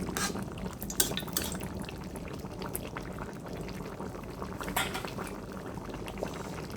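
An egg is stirred in a cooking pan for a sweet pumpkin and egg dish, giving a steady bubbling, simmering wash with a few faint utensil clinks, continuous and close.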